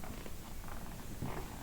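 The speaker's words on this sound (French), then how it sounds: "Le petit chat." A small cat purrs close up in a draughty abandoned psychiatric asylum, a continuous soft rumbling vibration with gentle pulsing breaths and no talking.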